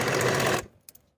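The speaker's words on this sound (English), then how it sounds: "I'll sew closed the gap in my stitching following the original stitching line." A sewing machine runs fast and loud for about half a second while stitching closed an elastic casing on pull-on pants, then stops, leaving a couple of faint clicks.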